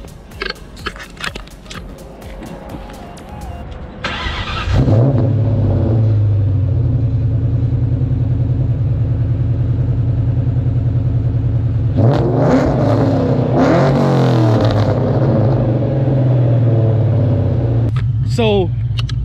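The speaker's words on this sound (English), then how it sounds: "We're gonna give you guys a little warm start right now." A project car engine warm-starts after a few seconds of cranking and settles into a loud, steady idle close by. It then revs hard twice, and a voice talks over the engine at times.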